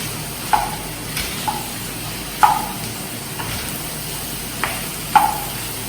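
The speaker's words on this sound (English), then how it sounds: "Keep it on medium when you are cooking the mushroom" Chopped mushrooms cooking in a pan over a medium flame, a steady low sizzle broken by a few light clinks of a spoon against the pan, close and moderately loud with no voices.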